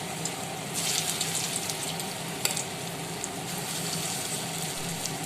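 Masoor dal pakoras frying in hot oil over a medium gas flame, a steady close crackling sizzle with a few sharper pops as batter pieces go in.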